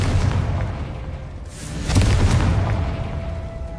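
A fiery Confringo spell blast in Hogwarts Legacy, a loud booming explosion that swells around the two-second mark and rumbles on, heard alone without talk.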